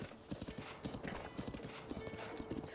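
Horses clip-clopping in the video game Breath of the Wild, quick close hoofbeats in uneven galloping clusters with a faint whinny, under light background game sound.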